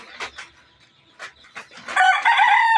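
A rooster crows loudly and close by, a few short clucks leading into a long, drawn-out call that rises and holds at the end.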